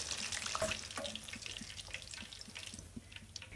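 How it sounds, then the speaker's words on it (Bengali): Fish fries in oil until crispy, a faint continuous crackle and sizzle with scattered small pops, close but quiet, and no voices. "এই মাছ ভাজি উপরে ক্রিস্পি হয় এবং ভিতরে একেবারে জুসি সফট থাকে"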